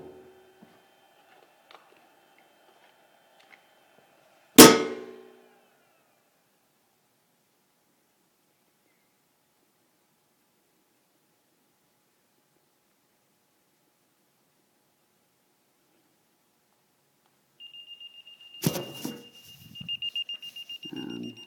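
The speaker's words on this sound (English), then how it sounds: "the Lipo alarm is actually saying my batteries are overcharged on a couple cells" A small 6-cell LiPo battery monitor alarm sounding for overcharged cells: after a single thud and a long quiet stretch, a shrill, steady high beep tone sounds near the end over light handling clatter.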